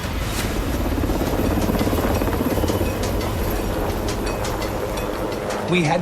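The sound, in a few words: large heavy helicopter flying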